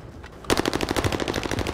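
Rapid automatic gunfire in a first-person shooter video game bursts in abruptly and keeps going as a dense, loud, fast-repeating rattle.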